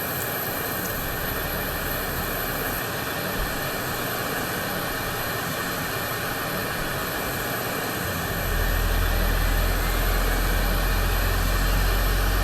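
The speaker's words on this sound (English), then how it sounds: "let's get engines started. Start with the left one." Engine start of a SEPECAT Jaguar jet in Microsoft Flight Simulator: a steady whining turbine roar with high hiss, growing louder and deeper near the end as the engine spools up, with no voices.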